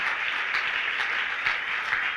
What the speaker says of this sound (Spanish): Démosle un aplauso fuerte al Señor.